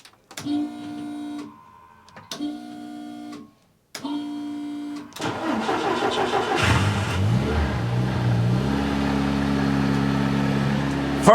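A Mk1 Golf with all-wheel drive makes several short starter bursts before the engine catches, then runs and revs up loudly as it drives off, with a steady rising drone.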